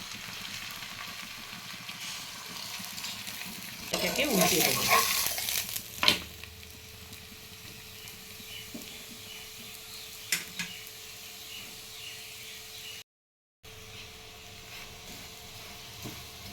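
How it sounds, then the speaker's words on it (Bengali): An aloo paratha fries on a hot tawa brushed with a little oil over a low flame, giving a soft continuous sizzle with a brief louder burst of frying and scraping partway through. "আমি একটি তাওয়া গরম করে নিয়ে একটু তেল ব্রাশ করে নিয়েছি এবার আমি এগুলোকে ফ্রাই করে নেব এটা লো ফ্লেমে করতে হবে"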